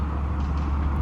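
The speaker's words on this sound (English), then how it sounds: "here comes a big feeding truck" A large feeding truck rumbles past close by on a rural road, a steady loud engine drone with no break.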